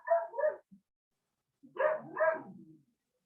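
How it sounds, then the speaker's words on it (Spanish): A small female dog barks close by, two quick yips, then a pause and two more louder barks, with silence around them. "Tengo una perrita que ladra mucho."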